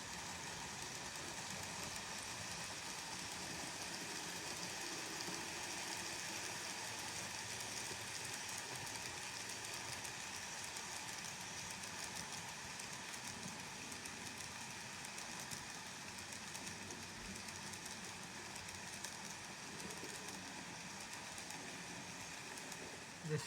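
A steady, low mechanical rumble and hum of a model D51 locomotive pulling a coal train on a layout, fairly quiet and even throughout with no voices.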